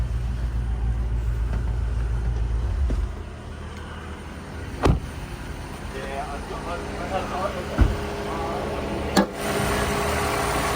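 A 2021 Toyota RAV4 GXL Hybrid AWD idling with the bonnet open gives a low, steady rumble for the first few seconds, then quiets to a softer hum broken by a few dull knocks while someone talks.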